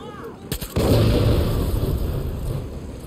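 Gunfire and artillery during a Far Cry 6 battle: a few quick sharp shots, then a heavy booming blast that rolls on into a long, rumbling, crackling tail, loud and close.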